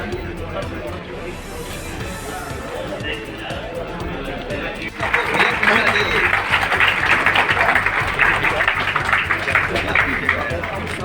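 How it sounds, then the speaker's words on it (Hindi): Audience applause at an award ceremony honoring police officers in Bareilly, a broad wash of clapping that swells midway and stays loud, with a voice speaking over the crowd. "कितनी तालियां बजाओ कि आसमान तक पहुंच जाए।"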